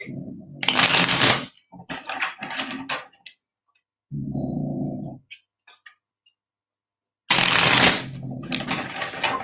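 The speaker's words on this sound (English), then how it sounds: "So I'm just going to shuffle for clarifiers for all of these cards really quick." Tarot cards shuffled in several quick riffling bursts, close and crisp, separated by short pauses and soft handling sounds.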